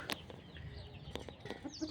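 Laying hens cluck quietly in a farmyard, with a few short clucks scattered over low background noise.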